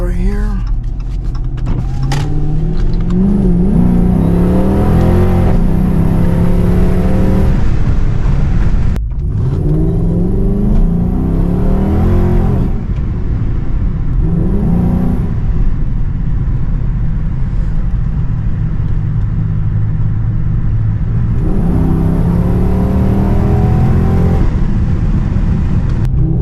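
A Dodge car with a new serpentine belt, idler pulleys and tensioner accelerates hard on a test pull. The engine rises in loud, close revving sweeps across several gear changes, with speech heard over the engine noise.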